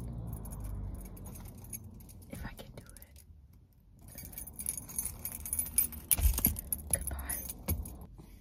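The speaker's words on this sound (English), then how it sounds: "Taking his keys off my keychain." Car keys jangle and clink close up as they are worked off a keychain, in bursts of metallic rattling with quiet gaps between them, and some low voice sounds mixed in.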